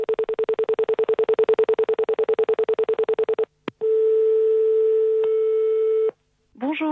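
Telephone answering machine tones play: a fast, evenly pulsed beep runs for several seconds, then after a click a longer steady tone holds before a short break and the start of a voice.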